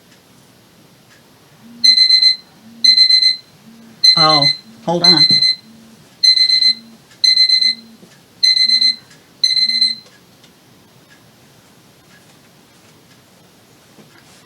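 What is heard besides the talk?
phone alarm ringing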